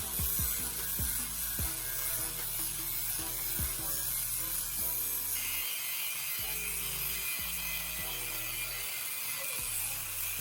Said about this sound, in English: Using an angle grinder, I'm carefully cutting the nut at my mark point.